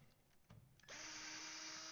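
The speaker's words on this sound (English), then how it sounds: "I'm going to drill a hole." After a few faint knocks, a power drill spins up and holds a steady, loud whine while boring a hole in a utility trailer on an Iowa farm.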